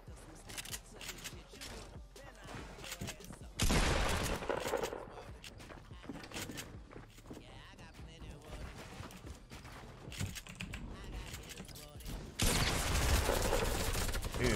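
Automatic gunfire bursts out in a shooter video game, loud sprays at the start and again near the end, with quieter game noise and a player talking in between.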